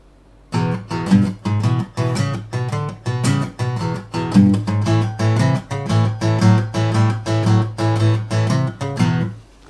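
Fingerstyle blues guitar plays a swung rhythm over a walking bass line, with steady plucked notes on every beat and a close, clear tone throughout, no voices.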